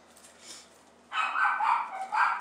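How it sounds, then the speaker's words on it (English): Several dogs bark excitedly at snow plows working out on a road, a burst of sharp, repeated barks after a quieter start, heard indoors at moderate distance. "There's plows going on my road, so my dogs are going crazy."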